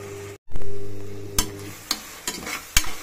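Tomatoes being sautéed and stirred in a pan for tomato rice, a steady sizzle broken by a few sharp scrapes and taps of the spoon, close and fairly loud, with no talking.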